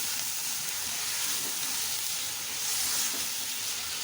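Mutton chops fry with green chillies in a pan, an even, hissing sizzle that carries steadily and fairly loud throughout, with no break or talk over it.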